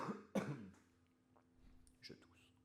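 A couple of quiet, rough coughs or throat clears in a still, close space from Hollow Knight: Silksong, followed by faint murmuring.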